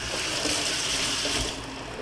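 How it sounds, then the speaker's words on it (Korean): Cold tap water runs steadily into a sink as blanched spinach is rinsed, a close, even splashing rush that eases slightly toward the end. "시금치는 색깔이 변하기 때문에 데치고 빨리 찬물에 헹궈야 됩니다"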